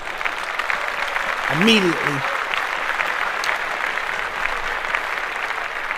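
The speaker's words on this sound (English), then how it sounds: "let's clap this up" Audience applause, a dense steady wash of clapping throughout, with a voice speaking briefly over it partway through.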